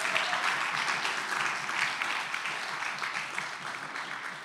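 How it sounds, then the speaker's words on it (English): A church congregation applauds as a couple is welcomed to the front, warm sustained clapping from a full room, steady and moderately loud for several seconds. "Give them a round of applause."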